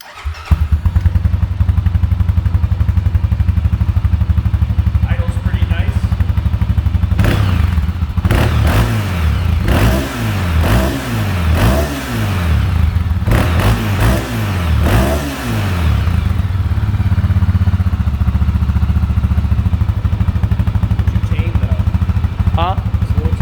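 Honda 400EX ATV with its stock exhaust, warmed up, idling steadily and then revved in a run of sharp, loud throttle blips close by, dropping back to a rumbling idle between bursts and settling at idle afterward.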